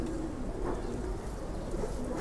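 Soft, low coos and murmurs from small pigeon chicks in a loft, heard close and steady over a muffled low rumble.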